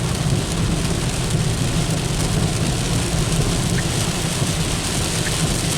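Heavy rain pouring down steadily at Fall Creek Falls, a dense, loud, unbroken hiss of drops on surfaces with a low rumble beneath, continuous throughout.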